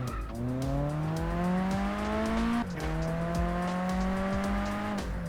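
A racing car engine in the video game Japanese Drift Master drones loudly, pitch climbing through two long gear pulls with a brief dip between, steady and close.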